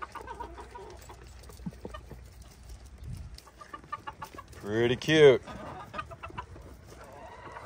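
Chickens in a farm pen cluck in short, scattered bursts, with a louder flurry near the middle, while people talk softly in between.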